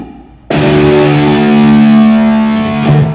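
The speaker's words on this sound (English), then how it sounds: "It will distort if you turn the master all the way up." A loud, sustained electric guitar chord through an amp simulator with the master turned all the way up rings out, saturated and buzzing with a softly clipped, compressed tone.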